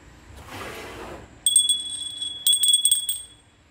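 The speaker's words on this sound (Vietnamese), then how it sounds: "Một cái chuông bằng sứ phủ men ngọc," A celadon-glazed porcelain bell with a slender shape rings twice, each strike a bright, close chime that rings on and fades, following a brief rustle of handling.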